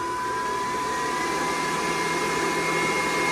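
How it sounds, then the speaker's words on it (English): A variable-speed power blower runs steadily at full speed, a loud continuous whine and rush of air with no breaks or talking. "So that way you can blow stuff around without it flying everywhere."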